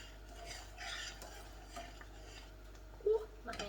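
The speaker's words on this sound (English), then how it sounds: "we're going to put our butter and stir it till it melts" A spoon scrapes and clinks against a pot while butter and vanilla are stirred into thick, hot chocolate pie filling, soft irregular stirring with one sharper clink near the end.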